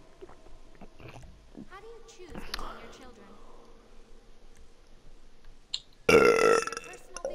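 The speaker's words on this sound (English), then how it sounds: "I'm so sorry, I'm burping a lot, but I can't help it." A person lets out burps during a gaming session. Quiet chewing and mouth noises come first, then one loud, abrupt burp near the end stands out sharply against the near silence.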